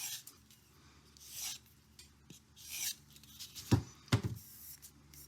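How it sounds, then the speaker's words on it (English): A sharpened knife edge is scratched with a fingertip to check for a burr, giving faint, brief rasping strokes with a few louder scrapes and handling knocks near the end. "I'm kind of scratching the edge with the tip there."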